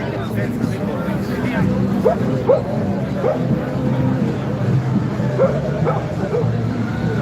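Dogs yip and bark repeatedly at an outdoor live street event in Cork, short high barks and whimpers mixed into crowd chatter and people talking nearby.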